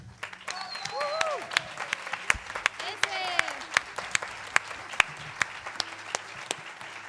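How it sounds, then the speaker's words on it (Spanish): A concert audience on Canary Islands Day bursts into applause, a dense wash of clapping that thins to scattered individual claps, with whistles and cheering voices over it. "les voy a pedir un fuertísimo aplauso desde el corazón"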